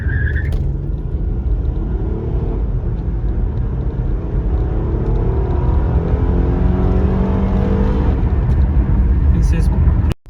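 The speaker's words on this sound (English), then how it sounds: "I'm going to do a quick 0 to 60 test." A 2009 Acura TL sedan accelerates hard from a standstill to 60 mph, its engine a loud, steady interior roar rising through the gears with a continuous road rumble.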